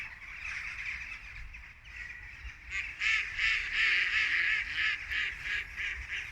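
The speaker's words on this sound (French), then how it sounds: "On est entouré d'oiseaux, c'est magnifique." Birds calling outdoors, a steady chorus of honking, cawing calls that thickens and grows louder midway, with no voices.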